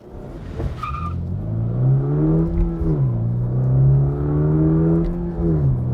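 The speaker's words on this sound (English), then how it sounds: "we also want to feel what it's like to accelerate in the BRZ" A Subaru BRZ sports car engine revs up and then pulls hard, its pitch rising and falling through gear changes, loud and steady throughout.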